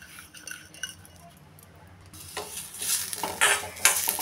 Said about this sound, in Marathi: कढई गरम झाली त्यामुळे पहिल्यांदा आपण आता हे जवस भाजून घेऊया.